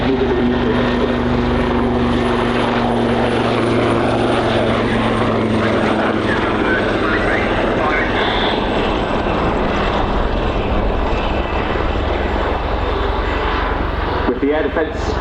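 An attack helicopter roars loudly and continuously overhead at the Royal International Air Tattoo airshow, its engine and rotor drone filling the whole stretch while a voice talks over it.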